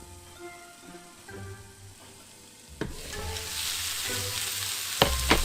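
Ostrich steak fajitas sizzle steadily in a hot pan while being flipped and stirred, with occasional utensil clatters over the continuous frying hiss.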